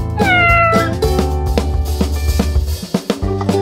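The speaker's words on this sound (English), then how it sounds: "Four cats." A cat meows repeatedly and loudly at close range, with drawn-out, pitched calls over a steady hum of low background tones.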